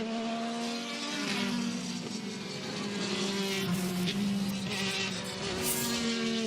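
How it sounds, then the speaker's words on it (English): IndyCar race cars at Portland International Raceway during qualifying drone steadily as they head out onto the circuit, engines whining at a constant high pitch with some passing swells in the distance. "We're underway then for 6 cars to head out there onto the circuit."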